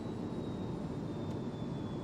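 Blacksquare King Air turboprop engines in Microsoft Flight Simulator 2020 run as a steady, loud, continuous drone with a faint high whine, holding level without change.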